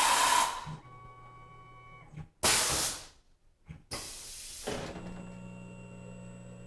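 A Tormach PCNC 1100 CNC mill machining aluminum parts four at a time produces bursts of loud hissing coolant spray and cutting noise, separated by quieter gaps where a faint steady motor tone remains.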